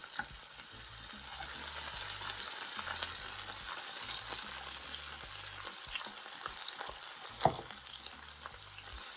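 Seasoning with thyme, okra and tomatoes sizzles in a pan for plantain porridge, giving a steady crackling fry with intermittent pops and a small sharp spike near the end, close and moderately quiet.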